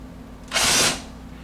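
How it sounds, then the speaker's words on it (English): A power drill bores a hole into a wall while wire is being fished through it, one short loud whirring burst lasting about half a second over a low steady hum. "I'm going to drill that hole in there."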